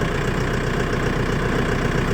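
A 2025 Mahindra 4550 tractor engine idling steadily nearby, a low rumbling drone with an even, constant throb and no talking.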